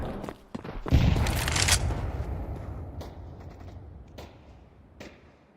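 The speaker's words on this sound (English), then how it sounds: "Throw in the flashbang." Flashbang grenade thrown in the video game Valorant, a loud close burst that swells and fades, followed by scattered sharp clicks and mechanical taps with faint game noise.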